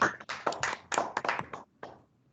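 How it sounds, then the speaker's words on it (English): A small round of clapping from a few people, several close, separate bursts of hand claps that stop short, leaving near quiet at the end. "A virtual round of applause."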